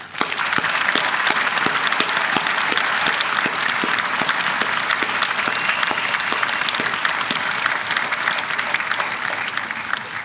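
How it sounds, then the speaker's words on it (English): A large audience at Carnegie Mellon's 2022 undergraduate commencement claps in a steady, full round of applause that holds at an even level throughout. "let's start this off with a rousing round of applause for us all"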